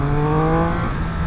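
A Triumph Speed 1200 RS motorcycle engine runs above 3000 rpm with a steady, loud, buzzing drone that holds its pitch for just over a second, with no voices.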